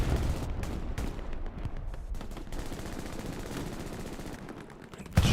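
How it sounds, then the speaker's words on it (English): Gunfire rings out in the World War II shooter Hell Let Loose during a competitive match on the Carentan map: rapid bursts of machine-gun and rifle shots, with distant booms mixed in, loud and continuous. "Firing back towards Muffin Man, but down he goes with another headshot."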